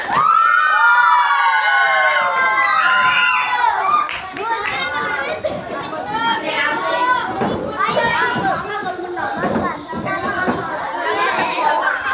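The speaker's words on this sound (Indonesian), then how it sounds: "Tepuk tangan yang meriah ya, Nak." A room full of schoolchildren at a school drama contest erupts into cheering, shouting and applause after an adult voice, with excited young voices overlapping loudly and close.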